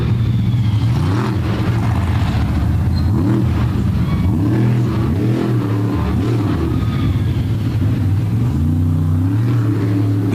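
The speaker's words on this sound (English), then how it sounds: "That big Hemi power plant really will make a lot of noise" Ram Trucks Raminator monster truck with a big Hemi engine running 4-into-1 collectors into mufflers, revving loudly and steadily in a series of rising and falling pulls at a monster truck show, close and dominant throughout.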